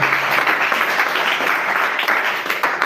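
A church congregation applauds loudly at a service, a continuous dense roar of clapping that holds steady throughout, close and full, with no break.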